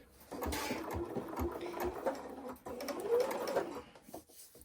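A sewing machine runs steadily for nearly five seconds, stitching a seam off the edge of a quilt square guided by a seam allowance tool. The whirring motor is close, moderately loud and continuous, with slight swells and no talk.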